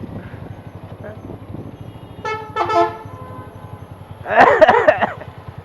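Vehicle horns honking in road traffic, a short toot followed by a longer blare, with other horn bursts and engine noise under a steady rumble from a bus interior. Voices are heard.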